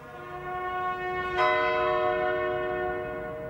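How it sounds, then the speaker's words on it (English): The Tower of London clock bell tolls close and clear, a single strong strike blooming over an already humming ring, its tone lingering and slowly fading with no one speaking. "the clock chimes 10"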